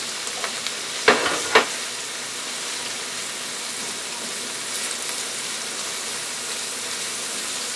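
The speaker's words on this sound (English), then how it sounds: "Now I'm going to add the broccoli to the mix." Broccoli goes into a hot pan of seafood ramen stir fry with teriyaki sauce, giving a couple of sharp clatters as it lands and then a steady, close sizzling hiss with no talking.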